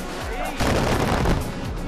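Explosions blowing up enemies in Far Cry 4 at Varkashot, a loud burst of booming blasts and crackling debris swelling then fading over two seconds, with a voice talking over it.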